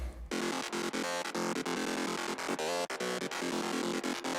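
An FM synth melody from a psytrance track plays in short rhythmic bursts of bright, metallic, buzzy notes over a steady electronic pulse, with brief gaps between phrases and no voices.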